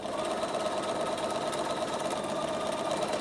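A sewing machine stitches fabric in a fast, continuous, even buzz, close and steady throughout with no talking.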